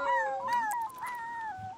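A puppy in The Sims 3 gives a few high, wavering whimpers and howl-like yips, close and clear with no talk over them.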